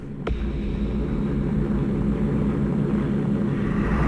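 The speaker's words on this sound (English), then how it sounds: "Alphonse Dubé can hear the planes and bombs in the distance" Aircraft drone steadily in a war documentary sound effect, a continuous low rumble of engines with one sharp click near the start and no clear bomb blasts.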